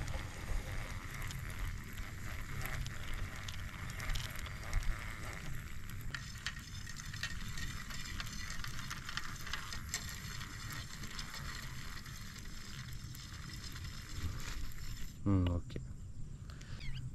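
A baitcasting fishing reel is cranked continuously to wind on line, a soft, fast ratcheting whir that runs almost the whole time and then stops with a sharp handling knock.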